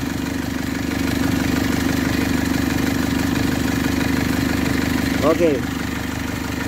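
A KIA Pregio van engine idles steadily with a constant low drone and faint mechanical rattle, close by throughout; someone says a brief word over it.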